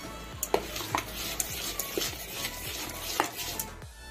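A spoon stirs and mixes vegetable rava idli batter in a bowl, giving irregular clinks and scrapes against the dish over a soft, wet background, close and fairly quiet.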